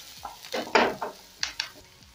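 Onions sauteing in a pot for goat curry: short bursts of sizzling and stirring scrapes come in uneven pulses, with a louder hiss near the middle and a few quick clinks afterward, close and fairly quiet.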